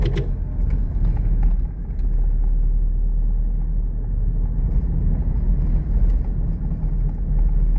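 A Toyota Innova with a 1GD diesel engine laboring up a steep hill, its low, steady rumble droning close and loud with no pauses and no voices.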